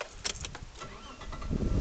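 A car engine cranks and catches as it starts, the car being set up to run an inverter as a generator, with a short scraping rattle before a low rumble swells over the final half second.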